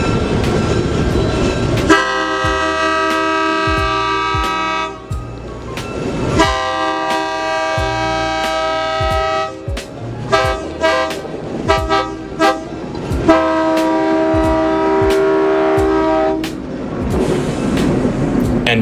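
The 8202 locomotive at a railway museum, a loud diesel drone with repeated long horn blasts and clanking rail noise across the whole stretch, nearby and without speech.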